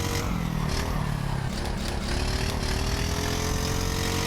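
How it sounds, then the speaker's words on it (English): Four-stroke kart engines in an rFactor racing game mod, droning and revving continuously at close range with a loud, buzzy tone and slight pitch shifts, no voices over it. "I just put some 4-stroke, going wide, 4-stroke kart sounds on the top"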